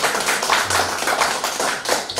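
Listeners at a talk on founding an internet bank clap along in a loose, uneven patter of hands, a few louder thumps standing out among scattered claps nearby.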